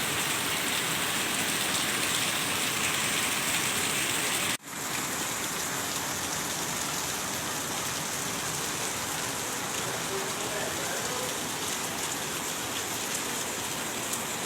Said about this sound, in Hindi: तूफानी बारिश